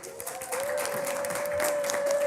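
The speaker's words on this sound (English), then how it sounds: "Keep that applause going." Applause from attendees at a monthly community board meeting, a sustained even patter of many hands clapping that swells slightly, with a steady tone running underneath.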